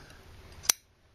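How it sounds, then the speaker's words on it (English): A single sharp scissors snip cuts off the end of a braided cord for a hair snake, close and crisp, followed by a faint metallic click a moment later. "Snip it off."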